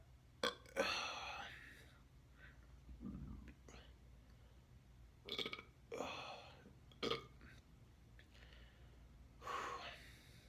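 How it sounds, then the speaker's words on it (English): Several burps after chugging pink champagne, some nasal and breathy, coming in short separate bursts spread across a quiet background, close to the microphone. "It gives you the burps that goes out your nose."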